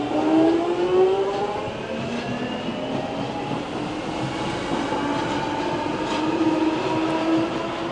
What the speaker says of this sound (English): yet again the Metropolitan Line train just behind it